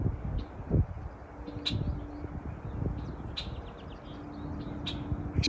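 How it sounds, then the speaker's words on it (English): Short, scattered high bird calls and chirps, a few sharp whistles, over a low rustling outdoor background; fairly faint and irregular. "Birds can bark and whistle."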